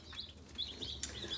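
Newly arrived baby chicks from a hatchery order peep in short, high, repeated chirps, several overlapping at close range over a steady low hum.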